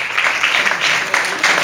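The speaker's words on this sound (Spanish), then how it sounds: "le vamos a dar un aplauso, un fuerte" Theatre audience applauding at a live tango, flamenco and action painting show, a steady wash of clapping that swells and dips over a short stretch with no voices over it.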